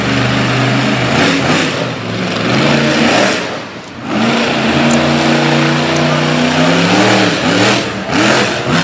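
A racing truck's engine roars loudly down the front stretch of a dirt track at Little Valley, New York, with rising and falling revs, a brief lift-off midway, then hard acceleration again.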